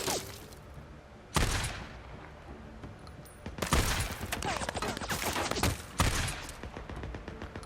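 Gunfire erupts in the Days Gone video game, with sudden loud bursts of rapid shots and sustained volleys over a noisy background. Brief talk occurs at times.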